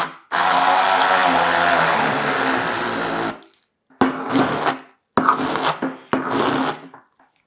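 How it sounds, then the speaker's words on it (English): An immersion blender whirs steadily through egg yolks for a few seconds, then stops and restarts in three shorter bursts, close and fairly loud. "I use my immersion blender."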